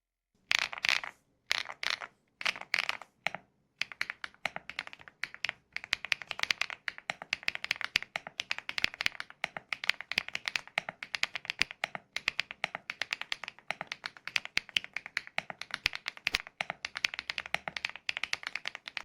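Mechanical keyboard switches being typed on, rapid clicky keystrokes in an uneven rhythm, a few isolated taps at first and then a dense continuous burst, close and crisp with no talking.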